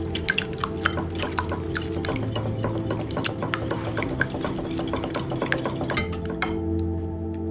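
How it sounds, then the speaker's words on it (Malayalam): Beaten egg mixture with salt and pepper powder being stirred in a bowl, with steady clinking and scraping, light liquid sloshing and small taps close by, throughout without talk. "നന്നായിട്ട് ഇളക്കി കൊടുക്കാം"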